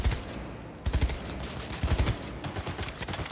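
Gunfire in the video game Cyberpunk comes in a few short bursts of rapid shots, fairly close and loud over a steady game background, with no talk.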